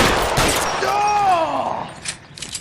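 Gunfire volleys from the 1940s Los Angeles crime game L.A. Noire, dense bursts of shots over a tonal musical swell, loud and close, with scattered shots trailing off near the end.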